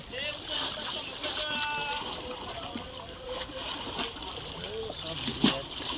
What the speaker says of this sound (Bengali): সমুদ্রের মতো ঢেউ দিচ্ছে